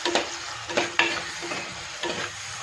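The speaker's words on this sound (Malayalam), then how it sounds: "ഇതിന് നമുക്ക് നല്ലതുപോലെ വഴറ്റിയെടുക്കാം." Shallots and green chilies sauté in a pan with a spoon of salt for rasam, a low steady sizzle broken by a few close knocks and scrapes of stirring, with no voice.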